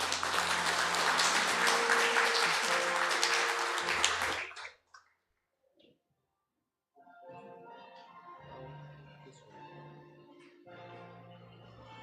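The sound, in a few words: audience applauding to welcome a speaker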